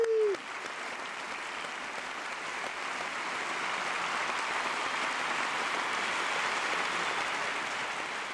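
Audience applause at a televised show, a dense sustained clapping that swells and holds steady for several seconds after a brief musical note fades out.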